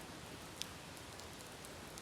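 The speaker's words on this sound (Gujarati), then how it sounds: "પણ અત્યારે વરસાદ ચાલુ," Rain falls steadily, a dense even hiss of drops with a few sharper spatters standing out, heard close and alone.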